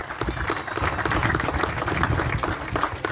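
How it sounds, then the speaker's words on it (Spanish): An audience at a public ceremony in Pénjamo, held to hand over rehabilitated dams, applauds the town council members with dense, steady clapping that fills the whole few seconds at moderate loudness. "Un aplauso para ellos, por favor."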